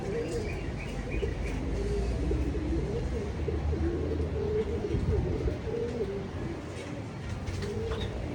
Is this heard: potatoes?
no